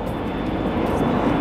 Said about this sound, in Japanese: 今ね、飛行機が ANA 1便見ての通り飛んでいきましたね。